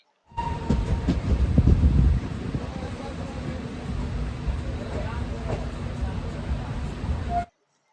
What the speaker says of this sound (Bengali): মাত্র পঁচিশ টাকায় তিন ঘন্টায় আপনাকে পৌঁছে দিচ্ছে এই ট্রেনে করে অমৃতসরে